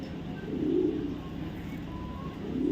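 A female racing pigeon from a racing club gives low, soft cooing notes, two brief swells close by against a quiet room hum.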